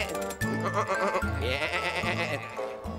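Cartoon sheep bleat repeatedly in wavering, nasal cries, several calls in quick succession, close and fairly loud.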